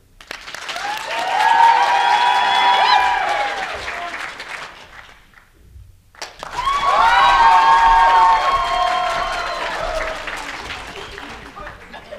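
At a BronyCon convention tiebreaker, one side of the crowd erupts in loud cheering, screaming and applause, dips into a brief hush, then swells into a second burst of cheers and whoops.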